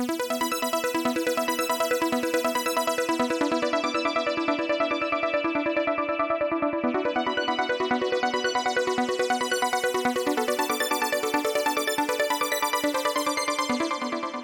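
A harp-like synth tone with legato and arpeggiator on plays rapid, smoothly flowing arpeggios in a steady, even stream of notes that rise and fall, sustained and clear with no voices.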